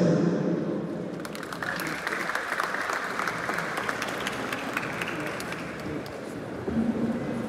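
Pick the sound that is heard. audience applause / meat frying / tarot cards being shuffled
audience applause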